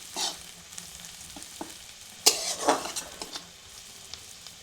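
Onion frying in a pan with sizzling oil, broken by several scraping stirs and clinks of a spatula against the metal, fairly quiet and close, with no one talking.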